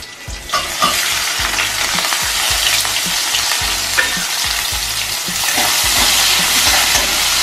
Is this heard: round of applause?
no